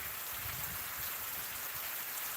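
Steady rain pours down evenly, a dense hiss of drops hitting surfaces close by, constant throughout with no voices.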